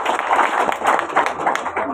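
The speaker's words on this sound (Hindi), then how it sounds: "अपने प्लान के लिए ताली तो बजाना पड़ेगा।" An audience at a company branch meeting claps in continuous, dense applause, loud and close for the full moment with no gaps.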